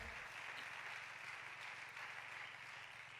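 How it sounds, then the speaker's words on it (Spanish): A church congregation applauds, with a steady, even wash of clapping that is faint and distant throughout. "Un aplauso al Señor"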